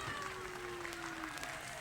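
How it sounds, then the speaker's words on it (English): A crowd cheering and clapping as Mrs. Thatcher appears at a door on election night, a steady, distant roar of voices and applause with a faint tone running underneath. "To an enormous cheer from the crowd."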